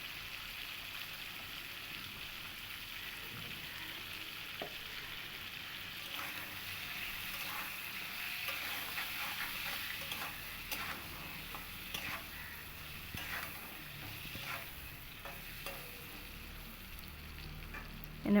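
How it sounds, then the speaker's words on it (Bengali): Pointed gourd frying in a pan with salt and turmeric, a steady low sizzle running throughout with occasional stirring scrapes and clinks, fairly quiet and without talk. "আমি পটল ভাজার সময় সামান্য লবণ আর হলুদ দিয়ে পটলটাকে ভালো করে ভাজা করে নেব।"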